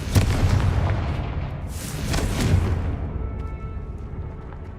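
A Confringo fire spell bursts in a magic video game, with a sharp blast at the start and a second rumbling explosion around two seconds in, both loud and close, fading into a low lingering rumble.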